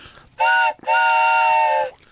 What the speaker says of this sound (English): because it's a whistle and it sort of sounds like a bass